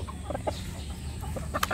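Bulik roosters cluck in a short series of close, sharp calls with brief pauses, then a quick cluster near the end; no voices.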